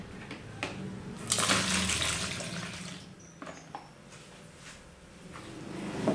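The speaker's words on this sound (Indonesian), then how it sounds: "Sekarang kita tiriskan." Water draining from tapioca crackers soaked for an hour, a steady splashing pour with sink-like gurgling that swells in the middle and then tapers to a faint trickle, heard alone.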